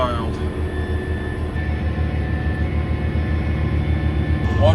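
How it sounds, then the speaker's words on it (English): A neighbor's small airplane flies low overhead above farm fields, a continuous loud droning engine with a rising rumble at the end, while someone talks. "There's my buddy with his plane."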